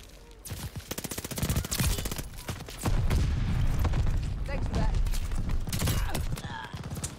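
Rapid bursts of gunfire crackle through a Call of Duty Vanguard match, loud and dense over several seconds, with voices speaking among the shots.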